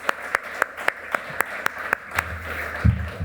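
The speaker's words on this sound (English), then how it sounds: "So how about we give a round of applause for the fantastic conference and the organizers" Audience claps in a steady rhythm at a medical conference, SSEM25, after a call to applaud the organizers; sharp evenly spaced claps ring out across the room, then a low rumble and a brief voice come in near the end.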